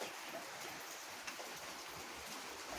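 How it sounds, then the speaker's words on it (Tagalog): Steady rain falls on a leaking roof in a constant, even hiss, soft and unbroken, with no voices. "Ulan-ulan po mga guys. Ayan. Ulan."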